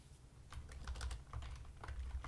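Rapid typing on a computer keyboard during a coding session, a dense run of light clicking keystrokes close by over a low steady hum, with no talking.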